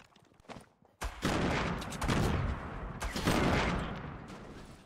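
Gunfire in the Foright battle royale game: a short burst, then heavy, loud volleys of rapid shots that fill the space after a brief lull.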